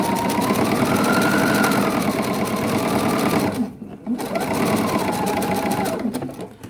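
A sewing machine stitching fabric scraps runs loud and close in a steady whirring drone, pausing briefly midway while the needle pivots, then starting again and running on.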